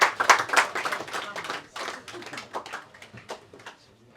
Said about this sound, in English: Let's welcome Miss Abbie Morrisey, please. Round of applause.